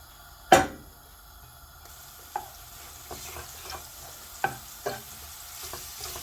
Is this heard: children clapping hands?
no